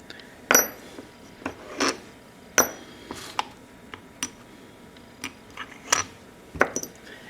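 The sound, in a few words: loosened bolts removed from sea water pump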